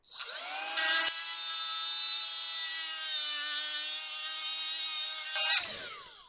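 An abrasive grinding tool works the backside of a steel plate, giving a steady, sustained high whine rich in ringing overtones. Brief louder bursts of contact mark the start and the end.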